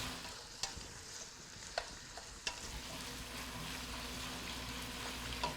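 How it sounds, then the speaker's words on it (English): Ratatouille vegetables cooking in a pan give off a soft, steady sizzle and bubbling hiss, broken by a few faint utensil clicks, with no one speaking. "we're going to let them simmer 15 minutes first"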